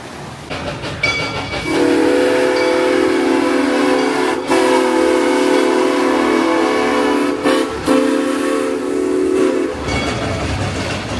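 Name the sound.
amusement park train ride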